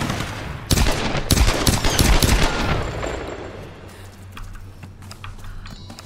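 Gunfire in the Tomb Raider video game: a dense burst of rapid shots for about two seconds, then scattered fainter reports and a low rumble as the fighting dies down, with no talking.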